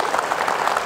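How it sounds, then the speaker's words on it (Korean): Brief burst of audience applause at a city academy lecture with the mayor, a dense blur of many hands clapping at moderate volume, lasting under a second. "박수 한번 주세요."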